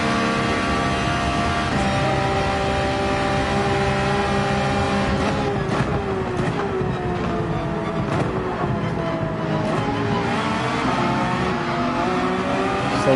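A yellow Ferrari race car in Gran Turismo 7 at Monza, its engine revving hard and continuously with rising and falling pitch through gear changes, loud and up close, with no talking.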